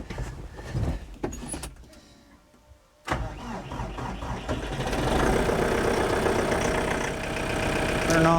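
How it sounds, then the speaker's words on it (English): A tractor engine cranks and catches in freezing weather, then settles into a steady idle that grows slightly louder, with some mechanical clunks at the start. "Go ahead and get the tractor warming up."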